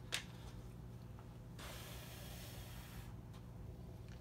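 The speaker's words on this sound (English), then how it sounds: "This is a web foam spray foam adhesive." Spray foam adhesive hisses onto a motorcycle seat pan during a tractor-style seat reupholstery, a soft, faint burst lasting about a second and a half amid quiet room noise.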